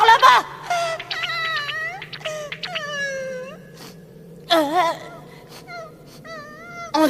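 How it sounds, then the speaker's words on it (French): Wailing, sobbing cries of a cartoon character in Keroppi's adventures, rising and falling in a sequence of drawn-out moans with short pauses between them, fairly close and loud. "On dirait qu'on pleure."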